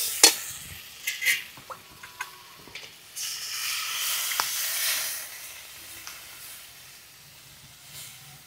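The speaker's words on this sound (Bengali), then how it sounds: "আলু আর ডাঁটাটা ভালো করে কষিয়ে নিয়েছি," Water is added to sautéed potatoes and amaranth stems in a pan for a prawn curry. A few utensil clinks come first, then a soft steamy hiss swells for a couple of seconds and fades to quiet simmering.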